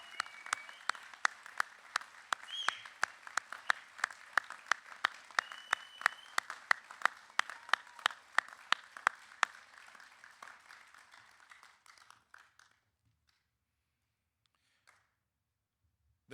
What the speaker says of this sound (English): Would you please join me in a round of applause for the graduates of Bosun's Mate 2501